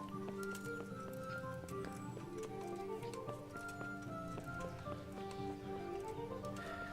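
Horse hooves clip-clopping in the medieval video game Kingdom Come: Deliverance, steady moderately close footfalls mixed with game music tones and ambient sounds, with someone talking over it.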